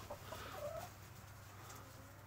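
Backyard chickens on a small farm cluck softly in a short, faint run of calls, set against a quiet, steady background hum.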